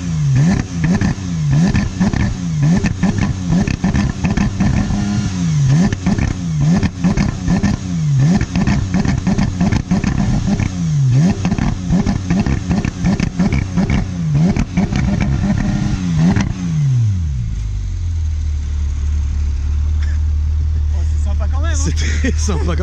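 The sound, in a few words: Porsche 991 GT3 engine revving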